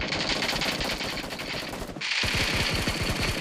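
Rapid automatic gunfire in the PUBG Mobile battle royale game, dense close bursts of shots with a brief gap before another sustained volley.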